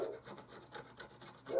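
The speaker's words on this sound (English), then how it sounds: "let me continue to scrape this off" Soft, rapid rubbing and scratching as acetone-loosened lettering is scraped off a surface, a faint continuous rasp in short strokes with no talking.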